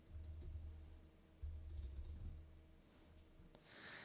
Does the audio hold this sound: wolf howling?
no